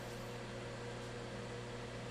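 A modified microwave oven with an upgraded magnetron and capacitor runs with a steady, loud electrical hum and whirring drone, unchanging throughout with no voices.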